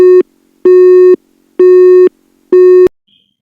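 Telephone busy signal heard after dialling a call: four loud, steady tone pulses in an even on-off rhythm, each about half a second long, ending in silence.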